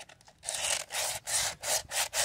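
Coarse 50 grit sandpaper rubbed on wood in about five quick back-and-forth strokes, a rough scratchy rasp with brief pauses between passes, close and clear.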